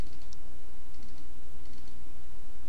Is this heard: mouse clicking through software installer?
yes